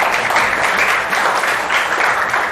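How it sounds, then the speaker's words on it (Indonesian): Classroom applause from a group of students, a dense, steady clapping close by for a few seconds with no talking over it. "Beri tepuk tangan untuk Melan."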